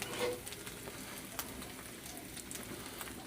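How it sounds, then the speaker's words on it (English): Bacon bits frying in a pan give a close, steady sizzle with a fine crackle and a few sharper pops, continuous and without talk. "Put bits of bacon in there."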